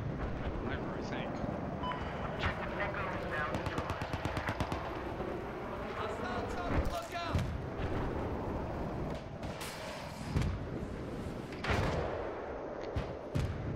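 Video game gunfire pops in scattered bursts with a rapid machine-gun-like run early on, fairly faint and distant under ongoing ambient battle noise and talk.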